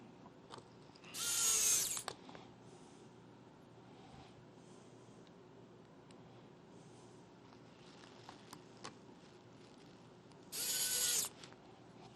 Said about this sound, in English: put the board back in with the Phillips head screws.